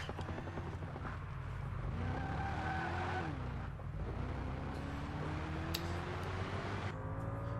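A race car in Project Gotham Racing 4 drives a lap in Quebec, its engine whining loudly and steadily and climbing in pitch through upshifts, with faint tire noise and no talking.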